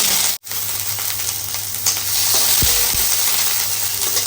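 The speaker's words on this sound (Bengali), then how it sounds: "তেলটা গরম হয়ে গেছে এর মধ্যে আমি পেঁয়াজগুলো দিয়ে" Onions sizzle and fry in hot oil, a steady loud crackling hiss, with a couple of brief dull knocks from the pan.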